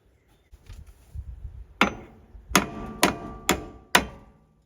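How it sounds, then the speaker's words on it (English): A hammer pounds on a truck's rear cab spring mount, five loud metallic blows landing roughly half a second to a second apart, close and ringing, preceded by softer shuffling and handling noise. "Hate to use a hammer when I don't have to, but on this one I guess I do."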